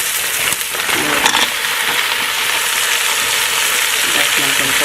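Beef stew vegetables, including baby Brussels sprouts, sizzle steadily in a Ninja Foodi on slow saute, a loud continuous hiss with occasional light clinks and scrapes.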